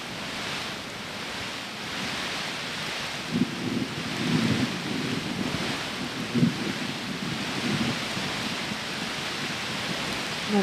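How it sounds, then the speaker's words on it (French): Thunderstorm gusts of wind roar steadily, with a broad, even rushing that swells in several stronger bursts midway, fairly faint and distant, with no voices. "On entend bien les bourrasques de vent."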